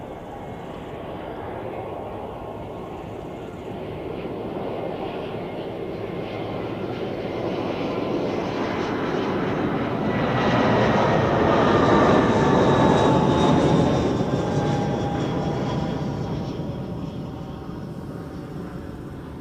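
A jet airliner comes in to land at Zurich Airport, its engine roar rising from a distant rumble to a loud pass overhead and then slowly fading away, with no talk.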